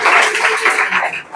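Applause from a group at an army exam and physical coaching class for a student, brisk clapping over a voice, close and loud, fading near the end.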